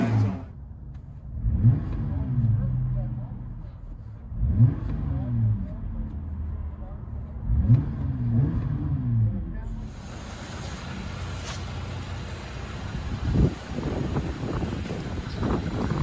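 A 2020 Jeep Gladiator V6 with a Magnaflow dual exhaust revs in three short bursts, each rising and falling, close and loud, followed by wind noise and muffled background activity.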